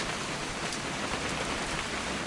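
Heavy rain in What Remains of Edith Finch pours down as a dense, loud, unbroken hiss, filling the whole short stretch with no other sounds.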